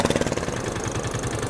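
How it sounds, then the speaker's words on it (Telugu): A boat engine chugs steadily at close range with a fast, even knocking pulse during a boat ride on the Narmada river at Omkareshwar, with no voices. "ఇప్పుడు మనము పూర్తిగా నర్మదా నదిలో ఉండి బోట్ షికార్కి బయలుదేరినాము"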